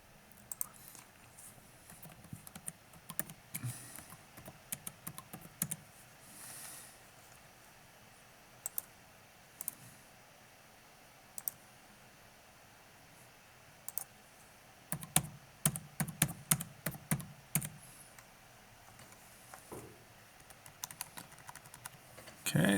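Typing values into the Desmos graphing tool on a computer keyboard, with scattered clicks over a faint background hum, then quicker bursts of keystrokes near the end.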